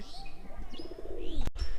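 A pigeon coos softly in a low rolling burble, followed by a sharp clatter near the end.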